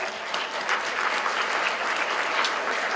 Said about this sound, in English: Ted Dranius of Petros Taverna, a round of applause,